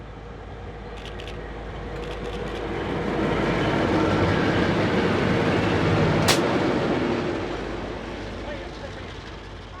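NZR DA class diesel locomotives on New Zealand's Main Trunk Line, a rumbling engine roar that swells as the train passes close by and then fades, with a brief sharp squeal near the peak.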